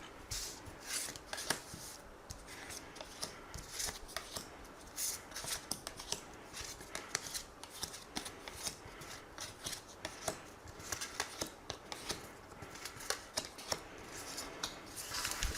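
A deck of tarot cards is shuffled continuously, producing dense, rapid riffling and sliding friction, close and quiet, with no voice.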